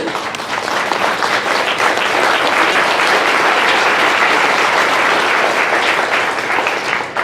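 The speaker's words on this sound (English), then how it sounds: "And everybody in this room deserves applause for everything that they do." Sustained applause from a banquet audience at a women-in-history event, a dense, steady roar of many hands clapping at close range for about seven seconds with no talk over it.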